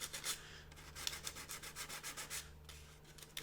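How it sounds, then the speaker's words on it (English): A sanding stick works the skin of an Aviatik (Berg) D.1 model aircraft fuselage in quick back-and-forth strokes, producing a soft, close rasping scratch in steady rhythmic bursts, with no one talking. "I will then use the sanding stick to gently put that"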